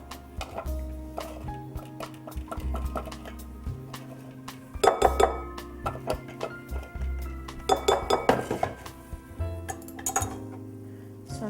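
Pasta salad ingredients are tossed in a bowl with a utensil, making a string of clinks and scraping knocks against the dish. The clatter comes close and uneven, with busier bursts midway, over a low steady background tone.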